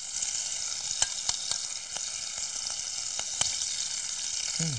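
Beef skewers in mint marinade sizzle steadily in a pan while the marinade is poured over the meat, giving a constant close frying hiss broken by a few sharp crackles and pops, with no voices.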